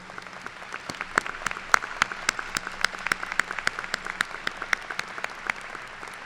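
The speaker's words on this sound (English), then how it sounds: "I think that we owe them a huge round of applause." Commencement audience at a university ceremony giving sustained applause, a hall full of distant steady clapping with sharper individual claps standing out.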